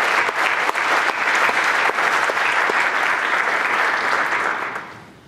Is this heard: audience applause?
yes